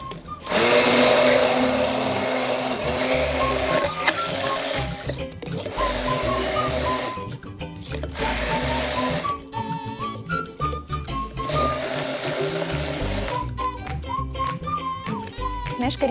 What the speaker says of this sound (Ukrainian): я вкотре переконуюсь, що цей блендер може все.